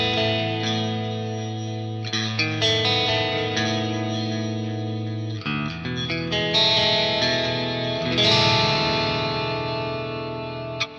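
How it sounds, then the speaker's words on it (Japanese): Electric guitar with its humbucker split to single-coil, played through a Neural DSP Fortin Nameless Suite X amp with delay and reverb, ringing slightly crunchy chords and arpeggiated notes that trail into echoes, loud and alone. "こんな感じでじゃあディレイとリバーブもつければ結構いい感じになるはず。"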